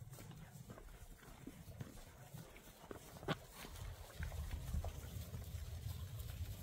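Cows in a roadside field in Scotland run and follow along, giving soft, uneven thuds of hooves on ground that grow a little louder toward the end, heard faintly at a distance beneath outdoor wind noise.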